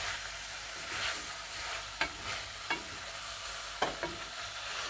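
Chicken gizzards and onions sauté in a pan with garlic, giving a steady, moderately loud sizzle with a few sharp scrapes and taps of a spoon stirring, and no voices.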